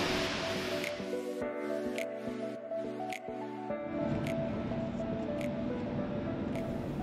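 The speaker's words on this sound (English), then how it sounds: "This is one of the few waterfalls in Iceland where you can go behind the waterfalls." An Icelandic waterfall seen from the path behind the falling water gives a steady, close rush of water with scattered drips and splashes, and a passage of music sits over it early on.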